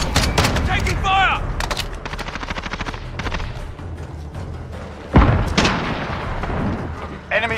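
Bursts of automatic gunfire and heavy explosive blasts crack through a Call of Duty Modern Warfare online match, rapid rattling volleys close and loud, with a sharp boom near the end and faint game voice callouts mixed in.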